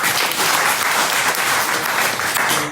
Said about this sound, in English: Now I want you to clap twice as loud as that.